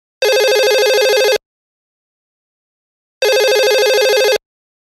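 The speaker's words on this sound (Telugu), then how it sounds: "ఫోన్ రింగ్ అవుతోంది" A telephone rings in two loud, identical bursts about a second long each, separated by roughly two seconds of silence, with no voices.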